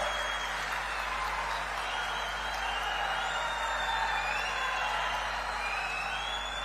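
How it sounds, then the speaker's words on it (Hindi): A large crowd at a BJP political rally applauds and cheers in a continuous, broad wash of clapping and crowd noise, steady and fairly distant throughout. "जरा जोर से ताली बजाना"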